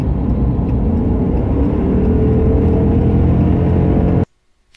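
A 2016 RAM 2500 truck drives along with a steady, loud road and engine rumble and a faint rising whine, cutting off abruptly near the end.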